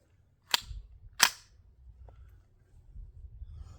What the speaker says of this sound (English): But first, we're going to shoot that block of clay.